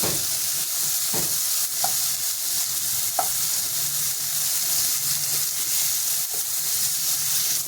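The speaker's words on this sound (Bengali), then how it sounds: "বেগুনটা আমি একটু নাড়িয়ে দেবো।" Eggplant slices seasoned with salt and turmeric fry in oil in a pan over lowered heat, giving a steady close sizzle with a few soft scraping stirs of a spatula; no one speaks.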